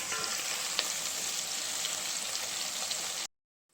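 Sliced onions fry in hot oil with salt and bay leaves in a pan for pulao, a loud, dense, steady sizzle that cuts off abruptly into silence.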